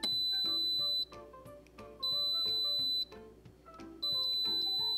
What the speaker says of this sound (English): you'll hear it beep 3 times before it turns off automatically.